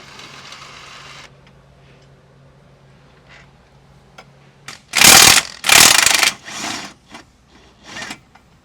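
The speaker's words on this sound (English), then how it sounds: "we'll use our same 15mm socket, 18mm wrench, remove the two bolts that fasten the lower control arm to the" Bolts holding a lower control arm to the frame of a CFMOTO UForce U10 Pro are loosened with a 15mm socket and 18mm wrench, giving loud bursts of power-tool whirring and rattling, with quieter clicks between them.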